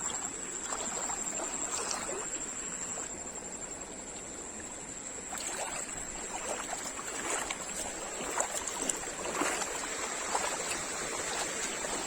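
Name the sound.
stream water flowing after rain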